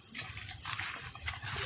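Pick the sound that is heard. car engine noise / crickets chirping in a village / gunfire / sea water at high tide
crickets chirping in a village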